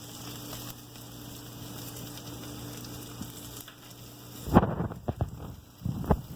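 Garlic hisses in a hot, smoking pan for Sicilian-style shrimp as a steady, even sizzle, followed near the end by a handful of close utensil clatters and scrapes.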